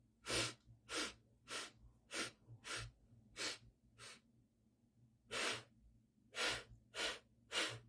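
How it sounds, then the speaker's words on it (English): Paced breathwork breathing, a series of about eleven close, airy breaths in a slow, regular rhythm with short pauses between them, alone without talk. "That was the exhale."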